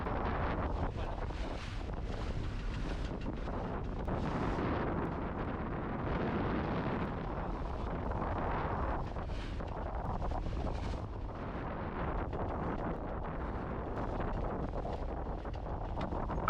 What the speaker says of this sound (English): the wind really started to pick up, and the gusts got to be too much for just one reef.